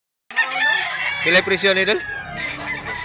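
A rooster crows loudly and close at a poultry market in Mantalungon, Barili, Cebu, its drawn-out call overlapping with a voice speaking.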